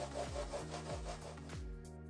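A glossy IKEA Pax wardrobe door is lightly hand-sanded in four steady back-and-forth strokes, close and fairly quiet, with no voices.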